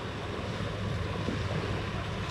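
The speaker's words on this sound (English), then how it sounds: "Check out the ocean here." Ocean surf rolls onto the Santa Barbara beach shoreline below a cliff, a dense continuous roar of breaking waves mixed with gusty wind buffeting the microphone, with no voices.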